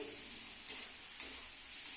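Spices sizzling in a pan during home cooking of a vegetarian dal meal, a soft steady frying hiss broken by two quick scraping stirs.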